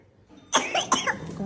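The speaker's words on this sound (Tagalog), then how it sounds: "Ang ubo niya. Grabe ubo niya," A child with a fever coughs: a single close, harsh cough bursts out, followed by a second shorter cough, then quiet.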